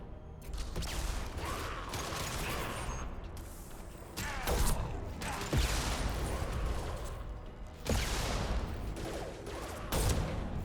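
Mass Effect 2 combat in which a concussive shot fires, heard as heavy booming impacts and bursts over continuous rumbling battle noise and mechanical clatter.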